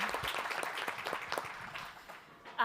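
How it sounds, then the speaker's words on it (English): Faint, fairly distant applause from an audience at a regional housing summit, welcoming a speaker named Liz. "So please give an applause to Liz."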